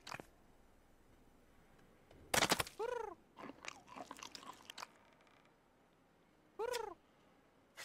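A cat named Lumpi eating pigeon-flavoured cat food: a few short bursts of crunching and chewing alongside two distinct meows over quiet, faint background.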